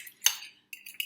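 A cracked egg is broken up with a utensil in a bowl for fluffy pancake batter, giving a few quick, close clinking strokes with a brief pause between them.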